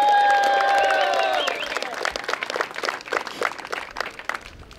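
A disc golf tournament crowd applauds and cheers at the final nine of the Memorial Championship. A held tonal sound opens the clip, then dense clapping with scattered whoops builds and continues at moderate loudness to the end.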